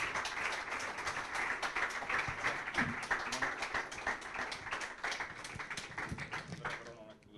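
Sustained applause from an indoor audience at a futsal event honouring the club president, a dense steady patter of many hands throughout, with someone talking over it.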